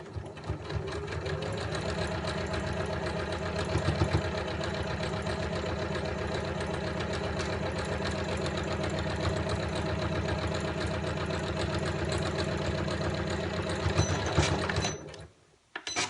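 A Janome MC9900 sewing machine stitches fabric in one long continuous run, a close, loud, rapid mechanical whir and needle chatter that stops abruptly near the end, with no talking.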